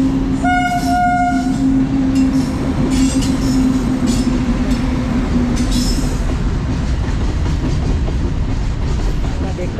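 A train rolls through a railway level crossing on the road into Gangtok, East Sikkim, its horn sounding steady tones near the start over a loud, continuous rumble and rattle of wagons that lasts throughout.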